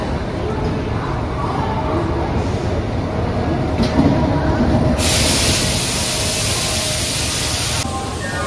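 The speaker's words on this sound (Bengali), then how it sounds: "তো আমার ট্রেন দিয়ে দিয়েছে" Train pulling into platform 11 at a busy Indian railway station, a steady broad rumble with crowd chatter and a loud hissing or brake burst in the middle, people talking throughout.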